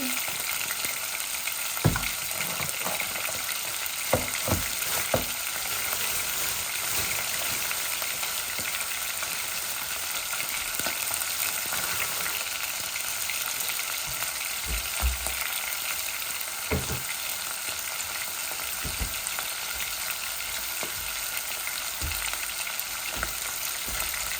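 Onions, garlic and salt frying in oil in a pan, a steady close sizzle with occasional sharper stirring clicks and scrapes, no voices.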